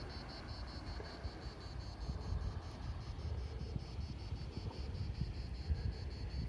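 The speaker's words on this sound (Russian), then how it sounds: "Цикады и шум волн." Cicadas buzz in a steady pulsing drone by a calm sea, while low wave wash and wind rumble swell slightly partway through. No one speaks.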